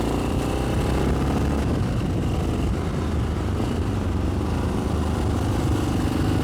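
A vintage Yamaha XT 600 enduro motorcycle engine runs steadily throughout a test ride, a continuous low-pitched thrum with wind rush over it, holding a fairly even level with no speech.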